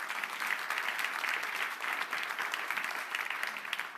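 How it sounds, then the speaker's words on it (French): A church congregation claps steadily through a Sunday service, a dense, continuous wash of applause at moderate distance with no voices heard above it. "On peut entendre un grand amen et même un applaudissement pour le Seigneur ce matin."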